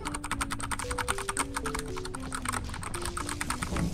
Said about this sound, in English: You guys want to hear my keyboard?